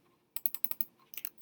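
Computer keyboard typing: a quick burst of about six crisp keystrokes, a short pause, then several more taps, close and clear with no talking.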